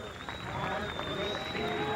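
Spectators at the 1993 IHSA Class AA high school baseball state championship cheer and clap for a batter, a broad, steady swell under someone talking.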